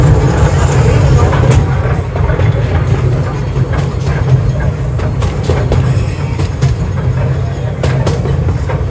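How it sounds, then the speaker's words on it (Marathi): A toy train clattering along its track in Cubbon Park, Bangalore, with a steady low rumble and rhythmic clicks and knocks throughout, close and loud in open outdoor surroundings. "अरे ट्रेन सारखं वाजतंय सुद्धा"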